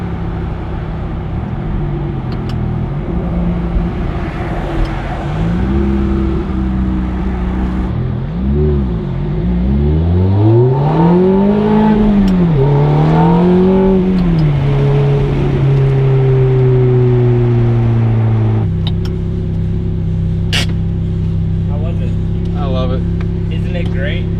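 A 2005 Ferrari F430 with a gated manual pulls through its gears in slow traffic, the engine note rising and dropping with each shift at close range, while a person talks over it.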